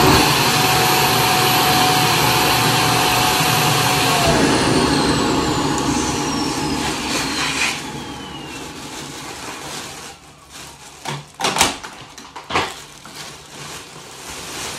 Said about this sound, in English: Now simply turn the vacuum cleaner on as you have the bag wrapped around the vacuum hose